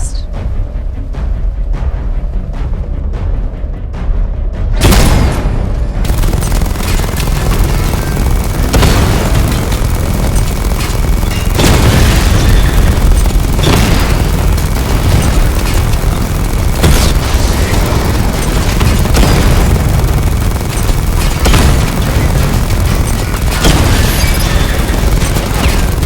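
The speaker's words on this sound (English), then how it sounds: "Charge up missile barrage to level 2 and destroy 4 active targets to complete diagnostic test" Dense, loud explosions from a Batmobile missile barrage in the game Batman Arkham Knight, with repeated booming impacts over a constant roar that lasts throughout.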